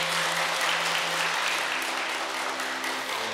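An audience claps in thanks at a ceremony, a steady, full round of applause with a faint sustained tone underneath.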